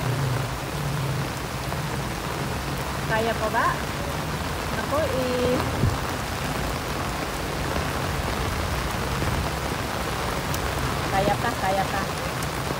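Continuous heavy rain pours steadily during flooding in a Philippine subdivision, a dense unbroken wash of noise throughout, with people talking over it.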